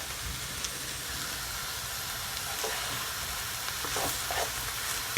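Continuous sizzle of coconut callaloo saltfish fried rice being stirred in a hot pan, with a steady hiss and occasional scraping clinks of the utensil against the pan.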